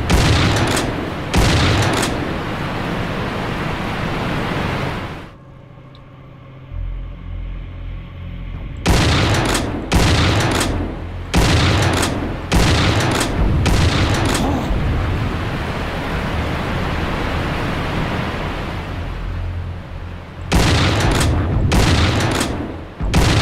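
Heavy bursts of video game gunfire in a shrine level, loud rapid volleys separated by short pauses, with a deep rumbling lull in the middle before the shooting resumes.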